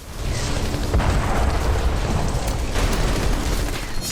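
Explosion in news footage of an attack near Moscow, a loud, rumbling, sustained blast roar with heavy low-end energy and no speech over it.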